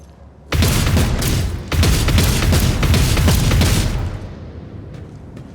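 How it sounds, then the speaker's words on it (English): Burst-fire attack in the Rogue Trader video game: a loud, dense rattle of rapid shots and blasts starting abruptly, a second surge midway, then fading into a quieter tail. "Burst fire up here."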